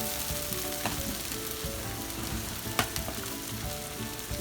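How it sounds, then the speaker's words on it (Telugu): Flattened rice upma fries in a pan while being stirred, a steady close sizzle with scattered scraping and clinking from the spoon throughout. "బాగా అంతా కూడాను కలిసే వరకు కలియబెట్టాలండి"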